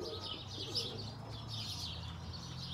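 Birmingham roller pigeons coo softly over a steady low background rumble, with faint chirpy high notes scattered through the whole stretch.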